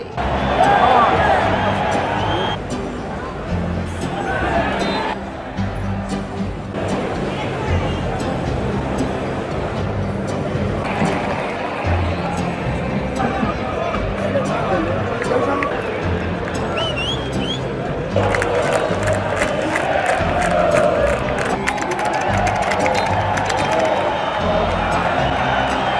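Football stadium crowd at a Valencia CF match roaring, cheering and whistling, a broad, sustained wall of noise with rising surges, heard under someone narrating throughout.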